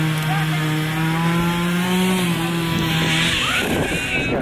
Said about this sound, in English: Sawing on some stuff over here.